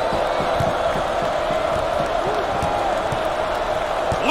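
A home crowd in an NCAA Basketball 20 game, Illinois Fighting Illini against Bradley Braves, roaring steadily and loudly with scattered cheers, while faint ball bounces thud underneath.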